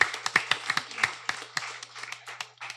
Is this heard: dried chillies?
no